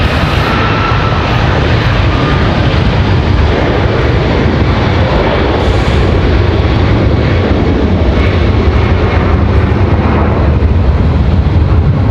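A Boeing 737 MAX 9 jet bound for Reykjavik roars loudly and steadily at Raleigh-Durham International, its broad engine noise filling the whole stretch without pause or voices.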